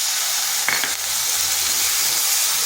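Ground spice paste frying with a little water in a pan for an egg and pointed gourd dish, giving a steady close sizzle with a brief clink of stirring near the start.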